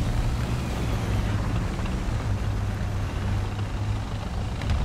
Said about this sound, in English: Kinda hear some engine over here.